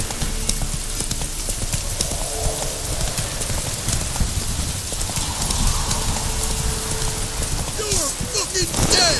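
In The Witcher 3: Wild Hunt, a horse gallops with rapid hoofbeats under a hiss like rain, and at the end there is a sharper, busier burst of sound. The scene is loud and steady throughout, with no clear talking.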